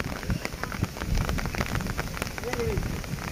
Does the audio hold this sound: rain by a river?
yes